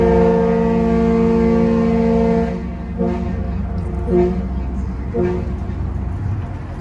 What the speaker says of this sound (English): bearing the sound of that horn, it's pretty loud, especially up front.